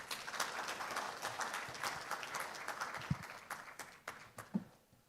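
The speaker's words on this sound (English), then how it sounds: "please give him with a big round of applause" An audience at a spectrum management forum applauds, a fairly faint burst of many hands clapping that thins to a few scattered claps and fades out within about five seconds.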